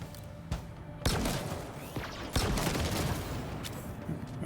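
Enemy gunfire in Halo Infinite's Legendary campaign, a burst of sharp cracks and rattling shots over busy game noise, with separate loud reports near the start, middle and end.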